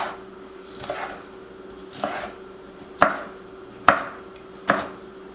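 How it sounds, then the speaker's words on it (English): Peppers for chili roughly chopped on a cutting board, five crisp knife thuds spaced about a second apart, close and clear with no talk. "I'm just going to go ahead and roughly chop these"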